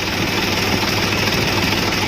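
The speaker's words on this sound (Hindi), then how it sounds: "और एक ट्रैक्टर ये मैं चला रहा हूँ" A tractor engine runs steadily in a soybean field during sowing preparation, a continuous close rumbling drone with a constant low throb and broadband mechanical noise, no voices.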